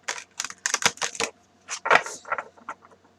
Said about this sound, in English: I feel like I want to shuffle them a little bit more.